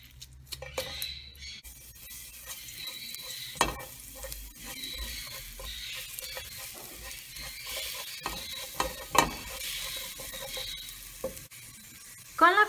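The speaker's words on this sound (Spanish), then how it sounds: "En la cacerola voy a agregar un chorrito de aceite. Le voy a agregar un ajo." Garlic sizzles in a splash of oil in a saucepan, a continuous close hiss broken by occasional spoon scrapes and clinks, with a sharper clatter near the end.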